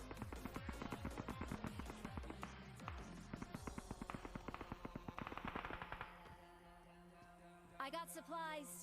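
Rapid bursts of automatic gunfire in PUBG Mobile finish off a downed enemy, loud and close for about six seconds, followed by quieter footsteps and a brief rustle near the end.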